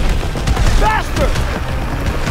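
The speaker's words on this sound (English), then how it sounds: "It's firing at us!" Enemy gunfire rakes the player's vehicle during a chase in Call of Duty WW2, a loud, dense crackle of shots over a rumbling engine, with brief voices mixed in.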